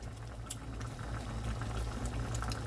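Gravy with liver and onions bubbling in a pot, thickened by flour from the liver, giving a steady low simmering burble with a faint soft pop or two, heard alone at moderate level.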